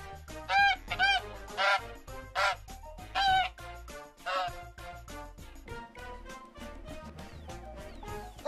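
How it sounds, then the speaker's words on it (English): Several loud, nasal honks from a goose or similar fowl, sounding in quick bursts with short gaps, close by, followed by quieter clucking-like calls. "Goose."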